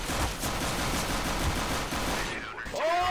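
Dense video game gunfire in Nova, a continuous loud barrage of pistol shots and bursts layered into a steady roar for about three seconds.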